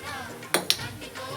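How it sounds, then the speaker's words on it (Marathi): A wok is set down on a lit gas stove, producing two quick metallic clanks close by against a low background hum. "कढई ठेवून घेऊया"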